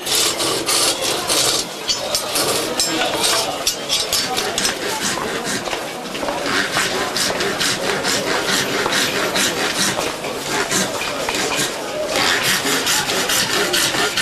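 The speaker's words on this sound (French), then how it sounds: "une corne de bœuf, une lime, une scie, tout à la main." Close, continuous rasping of a comb maker hand filing and sawing ox horn in Morocco, the strokes repeating in a steady back-and-forth rhythm amid busy surroundings.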